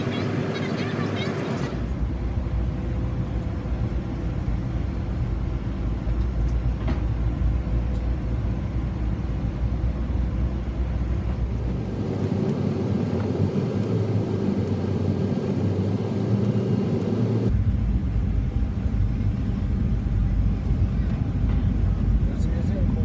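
A Delta Boeing 737-900ER lands, heard from the cabin as a steady loud roar with low rumble, its engine tone shifting in distinct stages.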